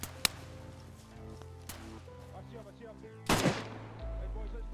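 Gunshots in the DayZ video game, a sharp crack near the start, a second fainter report, then a louder blast with a short echoing tail, set against a low steady hum, with no one talking.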